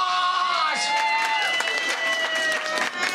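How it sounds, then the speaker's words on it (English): Audience applause with cheering and children's shouts aboard a Disney pirates-themed fireworks cruise, lively and close, mixed with excited voices. "Give Hunter a big round of applause!"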